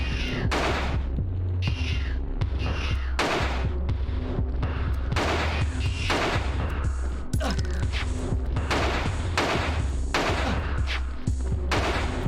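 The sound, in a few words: pistol gunshots in the video game Alone in the Dark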